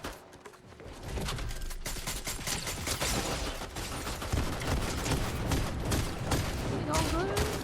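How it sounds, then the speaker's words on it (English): Rapid bursts of gunfire in a shooter game, dense crackling shots and automatic fire running continuously at moderate volume under a player's voice. "who's shooting at me?"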